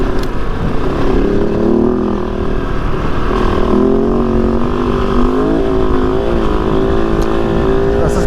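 A Kove 450 Rally motorcycle fitted with a 51-tooth rear sprocket drones loudly and steadily, its engine pitch rising and shifting as it pulls through the gears, close and continuous for the whole stretch.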